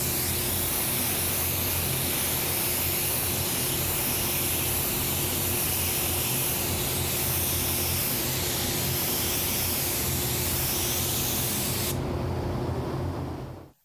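A spray gun lays down 4050 UVLS gloss clear coat in a loud, continuous hiss that holds steady for about twelve seconds, then stops abruptly and leaves a brief fading tail.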